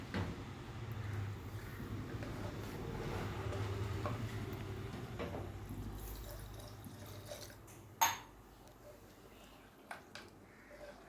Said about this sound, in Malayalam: കുറച്ചുകൂടി വെള്ളം ഒഴിച്ചു കൊടുത്ത് ഒന്ന് തിളപ്പിച്ചെടുക്കാം